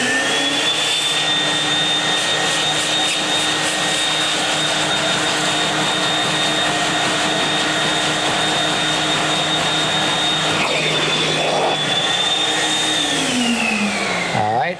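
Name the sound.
vacuuming carpet after spotting egg stain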